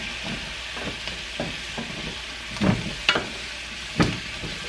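Mushrooms frying in butter in a pan, a continuous close sizzle broken by several sharp pops and spatters as bits jump from the pan.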